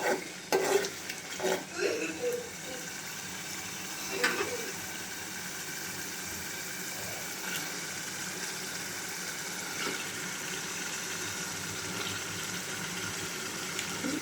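Onions sauté in a pan for pangas fish bhuna: a few clattering stirs and scrapes at the start, then a continuous close sizzle with occasional light knocks of the utensil, no speech.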